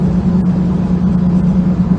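A 1964 Volkswagen Beetle engine drones steadily while the car drives at night, a close, loud, even low hum with no pauses or talking.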